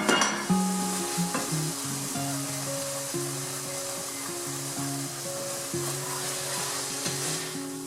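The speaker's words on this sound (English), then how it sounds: "I'm putting it all into my skillet and heating it up" Browned meat and marinara sauce heat in a skillet with a loud, steady sizzle and bubbling. A continuous hum of tones, like a range hood or appliance, runs beneath it.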